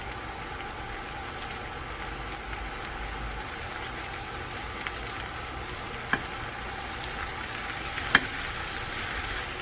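Korean sundae (blood sausage) stir-fried with perilla oil and chili peppers sizzles steadily and evenly in a hot pan, with a couple of faint clicks near the end and no talking.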